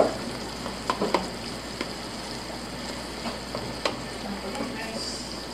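Food sizzles in a pan while being stirred for a gratin dauphinois, a steady close frying hiss with intermittent utensil clinks and scrapes, faint speech in the background.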